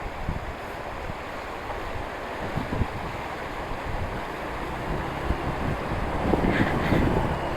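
Cold stream water churns and rushes during a wade across a Himalayan stream on the Kaza to Chandratal route, a steady broadband wash with wind buffeting the microphone and low thumps of movement through the water.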